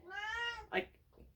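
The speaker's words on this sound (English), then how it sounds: "That's my cat." A house cat gives one clear, close meow with a rising then falling tone, followed by a short rustle and a faint trailing sound.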